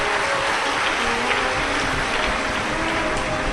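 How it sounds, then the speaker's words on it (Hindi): Loud, dense clapping rises from a big crowd at a live Shiv Mahapuran religious discourse, a sustained wash of applause with no speech over it. "एक बार जोरदार ताली बजाकर आप सभी के लिए साधु का।"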